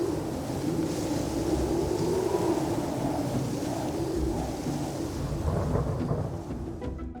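A monsoon thunderstorm arriving over the Arabian desert rumbles with deep, continuous thunder and a wash of rain-like noise, loud and steady throughout.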